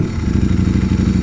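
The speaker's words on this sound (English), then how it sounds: "And the other noise you're hearing is a dry clutch." Ducati Streetfighter V4 motorcycle with a dry clutch, a steady loud low engine rumble carrying a fast rhythmic rattling clatter throughout, close and continuous with no talk.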